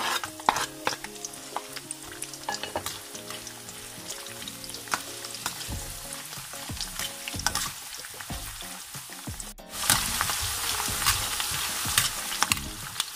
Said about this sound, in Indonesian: Ini kita goreng bawang merah yang udah diiris, dan ini cuma 1 butir bawang putih